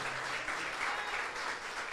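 Sustained applause from a worshipping congregation fills the room, many overlapping claps forming an even, bright rush with no pauses and a murmur of voices beneath.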